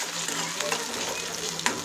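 Potato pieces roasting in a pan, giving a close, steady crackling sizzle with a soft stirring scrape near the end and no talking.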